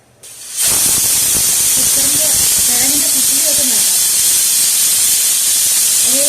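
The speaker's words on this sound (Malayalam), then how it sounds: "നന്നായിട്ട് തിളച്ചൊന്ന് വേവട്ടെ" A pot of fish curry made with sardine heads boils hard, giving off a loud, steady steaming hiss with soft bubbling underneath that runs unbroken once it starts.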